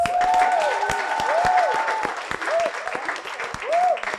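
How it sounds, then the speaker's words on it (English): Applause and cheering from an audience at a book launch event fill the whole stretch, steady dense clapping with voices whooping over it, loud and close throughout. "give yourself, like the biggest cheer, round of applause"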